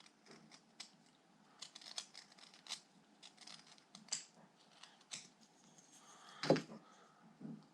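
Knife carving the wooden brim of a small elf Christmas ornament, a series of soft, crisp scraping and snicking cuts at close range, ending with a louder knock or bump.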